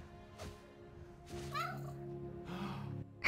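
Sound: cat meowing in video game Spider-Man: Miles Morales

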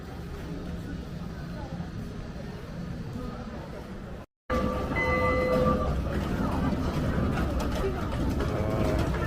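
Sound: mini ride-on train passing at an outlet mall

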